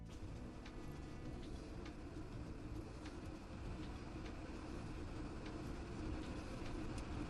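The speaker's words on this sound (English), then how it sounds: "That definitely sounds like" A train rumbles steadily past at a distance, a continuous low roar with faint periodic clicks of wheels over rail joints, with no talk over it.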